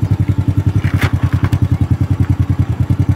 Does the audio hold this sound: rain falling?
no